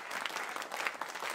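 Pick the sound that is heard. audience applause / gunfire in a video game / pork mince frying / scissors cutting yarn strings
audience applause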